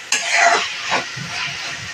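Drumstick curry frying in hot oil in a pan, a brief sharp sizzle burst followed by softer hissing and a stirring scrape, close up, with no voices.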